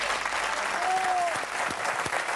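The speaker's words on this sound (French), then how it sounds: "On va l'applaudir une nouvelle fois." A television studio audience applauds on a French Eurovision show, the clapping fairly quiet and steady, with a brief whistle-like tone rising above it partway through.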